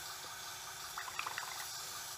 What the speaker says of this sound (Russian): Вы наливаете кипяток в чашку.